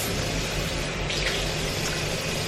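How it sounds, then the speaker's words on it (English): Tap water runs steadily into a sink while hands are washed, a close, even splashing hiss throughout. "let me wash my hands"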